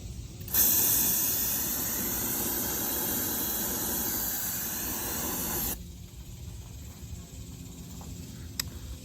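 A can of brake cleaner sprays in one long, loud, continuous hiss lasting about five seconds, then cuts off abruptly into quiet outdoor ambience with a faint click near the end.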